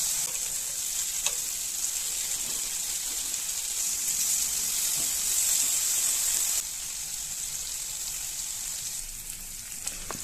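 Marinated chicken fries in hot coconut oil in a pan, giving a continuous, fairly loud crackling sizzle up close. The sizzle drops slightly in level partway through.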